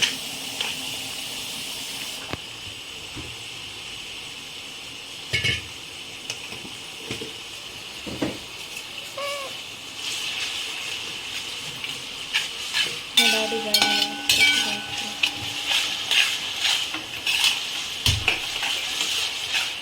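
Onions salted lightly fry in a pan, a continuous soft sizzle broken by clanking and scraping as a spoon stirs them, with sharper metallic knocks growing busier toward the end, close-up and without speech.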